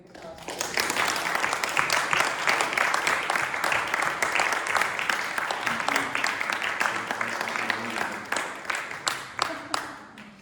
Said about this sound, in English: Can I have a big applause?